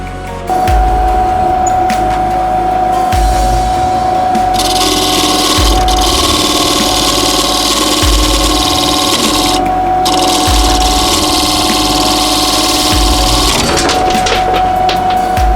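A wood lathe spins a bowl while its bottom is flattened, giving a steady loud scraping, rasping tool noise over a low motor hum, with rhythmic low thumps and brief pauses as the cut eases.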